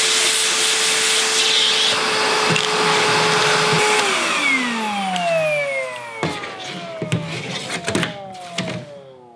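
A Metabo HPT cordless vacuum runs on its highest setting with a steady whine, then winds down in a falling pitch and stops, leaving scattered knocks and handling clatter.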